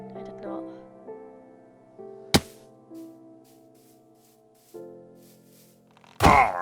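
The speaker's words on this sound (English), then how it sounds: "So I decided to just pick them off one by one with my axe." Axe strikes on pillagers in Minecraft, two sharp, loud thwacks a few seconds apart, heard among soft game tones and background music.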